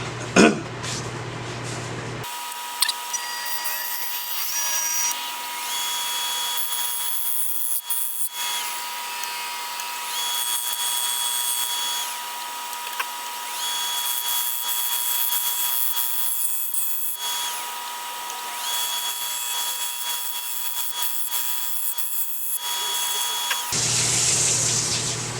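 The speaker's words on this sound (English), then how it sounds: "Let me grab my small spindle gouge." Cherry and epoxy bowl spinning on a lathe while a small spindle gouge cuts, a steady whirring machine drone with a constant tone, running for most of the stretch, with brief pauses and starts at each end.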